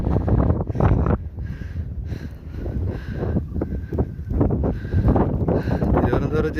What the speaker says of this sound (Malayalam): ആഹാ, ഉഗ്രം കാറ്റ്.